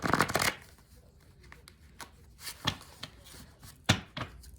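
A deck of letter cards is shuffled close by in several quick riffling bursts with short pauses between them, and there is no talking.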